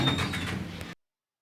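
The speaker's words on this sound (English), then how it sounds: "Ground floor. Doors opening." A lift in a Portsmouth shopping centre opens its doors with a short sliding rumble that lasts about a second, close by, then stops abruptly into silence.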